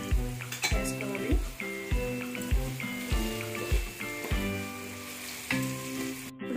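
Spices for a soya chunks biryani sizzle steadily in a pan, with repeated rhythmic scrapes and clinks of a stirring spoon close by and faint background voices.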